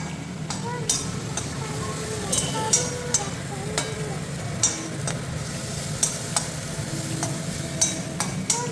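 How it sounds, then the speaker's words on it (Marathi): Mixed vegetables seasoned with salt, turmeric and chili fry in a pan with a steady low sizzle, punctuated by sharp spoon taps against the pan, while some voices are heard faintly. "आता इकडे व्हेजीला जरा फ्राय होऊ द्या"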